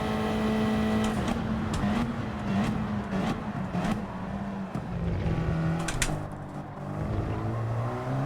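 A racing car in Gran Turismo roars steadily under engine braking, its engine note stepping down through the gears toward second as it slows for a corner, loud and continuous throughout.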